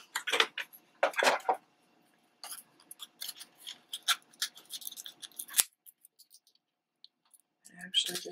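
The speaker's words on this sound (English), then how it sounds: "let's just cut it in half" Scissors snip through a sheet of paper while it is cut in half for a papercraft junk journal project: a run of sharp, close clicks and crisp slicing strokes in bursts, then a pause, with a faint steady hum underneath.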